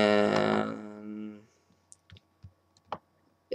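A computer mouse clicks several times, small sharp isolated clicks close by, after a stretch of speech at the start.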